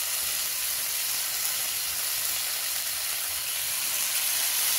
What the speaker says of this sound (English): You hear that sizzle? That's how you know your pan is hot enough.